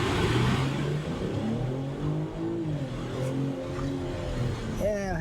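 A 2023 BMW X7 xDrive40i SUV accelerates hard off the line in a parking lot, its engine note climbing steadily and loud from inside the cabin, with a voice briefly heard near the end.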